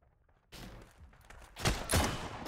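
Gunfire in a first-person shooter video game during a sniper headshot, with a burst of shots rising sharply after a quiet start and two loud, close cracks near the end.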